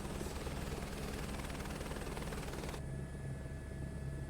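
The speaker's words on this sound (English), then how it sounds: "So let's hop back in the helicopter and continue on my rounds." Loud, steady helicopter rotor and turbine drone from Microsoft Flight Simulator 2024, continuous throughout with a slight change in tone near the end as the level shifts.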